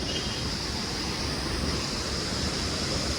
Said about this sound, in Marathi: इकडनं बघा ही मन्नागिनी नदी वाहते या साईडनं